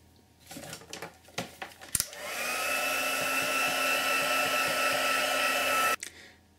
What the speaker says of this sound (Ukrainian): Зараз ми підсушимо виштамповані зображення феном